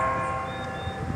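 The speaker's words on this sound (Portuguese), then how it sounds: "Toca o sino." A church bell on the main square of Macaé rings with a sustained, resonant tone and long humming overtones, heard clearly and fairly near with no talk over it.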